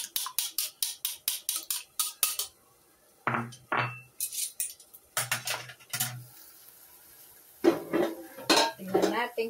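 Eggs beaten in a bowl with a fork or whisk, a quick run of rapid metallic clinks against the dish, then pauses broken by a few more bursts of tapping and scraping, close and fairly loud.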